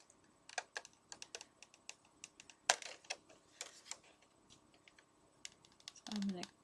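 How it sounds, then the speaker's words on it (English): Crisp snipping and clicking sounds come in quick irregular bursts as scissors cut out a paper stencil, close and fairly quiet, with a louder rustle near the end. "I'm going to attack my stencil with scissors"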